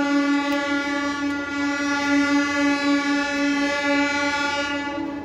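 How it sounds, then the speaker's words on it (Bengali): A passing train sounds its horn in one long, loud, steady blast near pigeon lofts in Park Circus, with no voices over it. "ট্রেনের আওয়াজও হচ্ছে প্রচুর"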